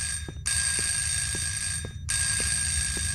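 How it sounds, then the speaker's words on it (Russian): An alarm clock in the video game Specimen Zero rings in two loud, harsh, sustained bursts separated by a short gap. Faint regular ticking continues underneath. "это будильник был?"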